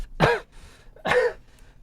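Two short, harsh coughs close by, about a second apart, with quiet room noise in between.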